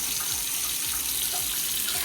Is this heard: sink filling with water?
yes